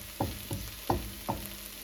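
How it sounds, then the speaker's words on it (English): Okra frying in a pan on medium heat is stirred in four evenly spaced scraping strokes over a low, continuous sizzle. "You gently stir the okra"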